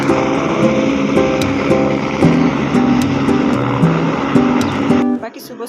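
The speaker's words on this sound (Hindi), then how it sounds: "सामने सुबह सुबह हेलीकॉप्टर ने भी केदारनाथ के लिए उड़ान भर दी है" A helicopter lifting off toward Kedarnath drones loud and steady with a pulsing rotor beat, then cuts away abruptly near the end; no one speaks over it.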